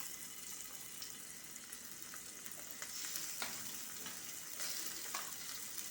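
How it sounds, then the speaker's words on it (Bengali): Marinated prawns fry in oil with a soft, steady sizzle and scattered crackles that swell slightly as the pieces settle into the hot pan, no speech over it. "এই তেলেতেই আমি যে মেখে রেখেছিলাম চিংড়ি মাছগুলো,"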